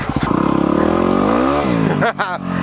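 A Yamaha WR250R motorcycle engine revs up close and loud, climbing in a sharp rising whine, dropping briefly, then blipping again as a short burst of revs.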